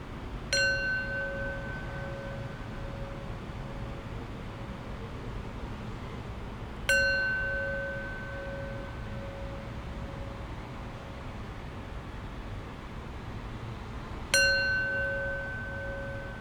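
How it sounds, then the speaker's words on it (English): A bell is struck three times at even intervals, each clear ringing tone decaying slowly into a quiet background with no talking. "I'll ring the bell 3 times."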